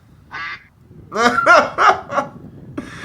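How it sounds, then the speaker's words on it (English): Loud honking and quacking calls from a duck passing overhead in a park during a disc golf round, several close, harsh calls in quick succession with some background noise. "Unfortunately, a duck flew by as he was."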